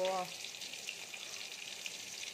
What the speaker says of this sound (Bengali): আর এখানে আইলা মাছ ভাজা বসিয়েছি।